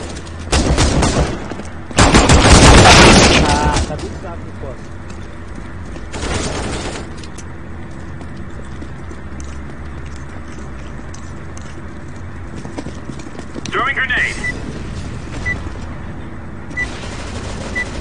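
Loud bursts of rapid video game gunfire, two long volleys then a shorter one, followed by quieter scattered shots over a steady background rumble.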